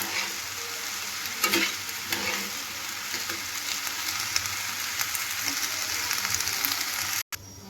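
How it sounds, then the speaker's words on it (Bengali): Gobindobhog rice and lentils stirred and fried together in ghee for khichuri, with a continuous loud sizzle and steady scraping, rasping strokes of a spatula against the pot throughout. "এবার ভালো করে একসঙ্গে চাল আর ডাল আমি নেড়ে নেব এইভাবে ঘিয়ের মধ্যে।"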